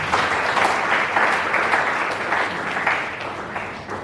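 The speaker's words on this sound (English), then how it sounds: "Please give them a round of applause." A crowd at a Drug Free Delta flag-off event applauds steadily and densely throughout, a full even wash of clapping at a constant level.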